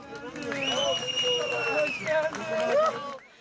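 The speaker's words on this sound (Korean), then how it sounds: "무너진 아파트 잔해 속에서 3살 배기가 무사히 구조되자 주변에선 환호성이 터집니다" Cheering and excited shouting rise from a crowd around the rubble of a collapsed apartment building as a three-year-old is rescued after an earthquake, mixed with voices and bustle, loudest in bursts near the middle and end.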